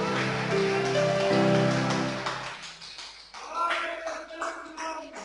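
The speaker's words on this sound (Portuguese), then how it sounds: "Vamos dar para Ele uma salva de palmas." A congregation at a church service breaks into scattered applause that patters like rain. It comes up under and after a fading sung or spoken voice and stays moderately loud for several seconds.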